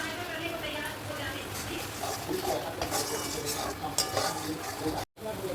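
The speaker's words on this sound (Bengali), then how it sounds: "এর মধ্যে দিয়ে দেবো এবারে এই মশলা তোলা জলটা, মশলার সমেত জলটা দিয়ে দেবো।" Spiced water poured into frying masala for a chicken dish in a pan, giving a steady sizzle with stirring and a few utensil scrapes and clinks throughout, close and fairly loud.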